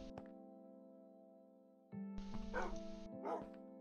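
Dogs in the Minecraft video game, one of three pet dogs on a farm: a sharp bark near the start, then a couple of yips and whimpers over a steady droning game tone.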